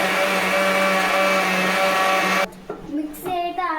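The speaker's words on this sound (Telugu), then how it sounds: "వాటర్ పోసుకొని మిక్సీ పట్టుకుందాం. సరే, ఇప్పుడైతే మనం మిక్సీ ఆన్ చేసి" A mixer grinder whirs loudly and steadily while blending moong dal with cumin seeds and water, then cuts off abruptly partway through, leaving quieter clatter and a faint voice.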